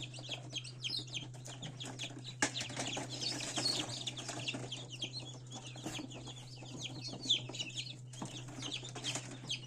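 Newly hatched chicks inside an incubator keep up a dense chorus of high peeping chirps, many birds overlapping continuously over a steady low mechanical hum.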